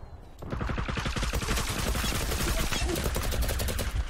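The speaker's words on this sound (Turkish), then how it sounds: "Oy bombalara bak." Rapid automatic gunfire and bomb blasts from the online shooter game Zula form a dense, loud barrage. It starts within the first half second and keeps going steadily to the end.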